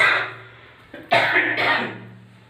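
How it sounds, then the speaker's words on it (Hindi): A person who is unwell coughs and clears their throat in a short, close burst of two or three rough, harsh hacks. "थोड़ी तबीयत खराब है इसलिए खांसी आ रही है हमें"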